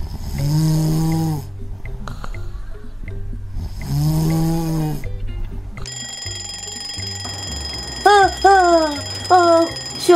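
An electronic alarm clock rings in repeated beeping bursts, loud and close, with a shift to a different ringing pattern partway through.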